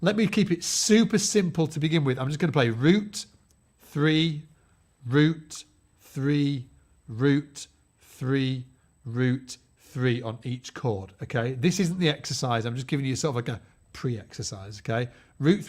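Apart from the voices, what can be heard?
No distinct noise like a dog, phone or traffic.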